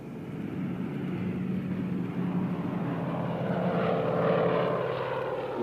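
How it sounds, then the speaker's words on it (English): A propeller airplane drones steadily as it takes off and flies, a continuous engine hum with a rising tone, loud and unbroken throughout. "we got into the airplane and took off"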